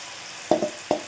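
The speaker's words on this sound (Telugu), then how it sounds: "సేమ్ ముందు ఏ విధంగా అయితే వేయించుకున్నానో అదే విధంగా ఇవి కూడా వేయించుకోవాలండి" Ragi flour snack fritters frying in hot oil in a kadai, a steady soft sizzle with a few brief louder spattering bursts as batter goes in, alone without voices.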